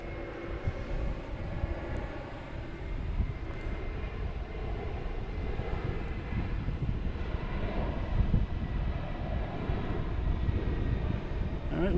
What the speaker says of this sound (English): Lufthansa passing the lagoon.